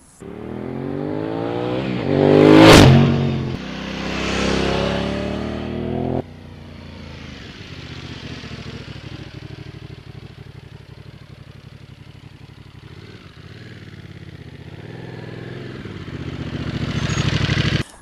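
Aprilia Caponord 1200 motorcycle engine rising to a loud revving peak as it passes near, then settling into a steadier, quieter drone while riding, with the sound building again toward the end.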